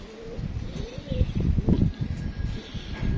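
Pigeons cooing in a loft of many birds, soft repeated low coos close by, with light rustling and a faint voice in the background.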